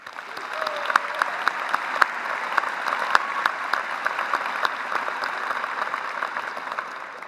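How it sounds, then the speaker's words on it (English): Sustained audience applause at a winter commencement ceremony, honoring the graduates' families and friends; dense, steady clapping from a large crowd fills the hall at a fairly even level for several seconds, with sharper individual claps standing out. "Please join me in giving them another big round of applause"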